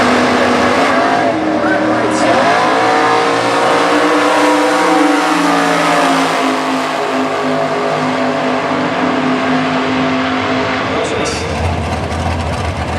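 Engines roar loud and sustained as a '57 Corvette and an '88 Cavalier run a Super Gas drag race at Indy, revs climbing and shifting, with an announcer's voice carrying over the noise.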